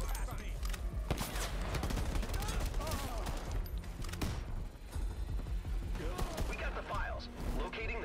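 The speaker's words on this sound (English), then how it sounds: "Oh no! I'm being shot by a markman." Marksman gunfire in a video game, repeated sharp shots and bursts with mechanical clicks and creaks, dense and loud throughout, mixed with game effects and a voice talking.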